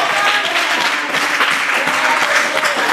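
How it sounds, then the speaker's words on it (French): A church congregation claps throughout, dense, continuous applause from a crowd that fills the whole moment with a steady rattle. "On acclame pour le Seigneur. Acclame le roi de roi."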